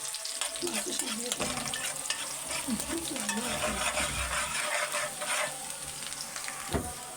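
Onions frying lightly in a pan on a gas stove, a continuous soft sizzle with occasional stirring scrapes, close and moderately quiet, with a voice faintly talking over it.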